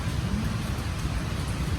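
Steady rain falls outdoors near a guardhouse and parking area, a dense, even wash of drops with low rumbling underneath, continuous and fairly close throughout.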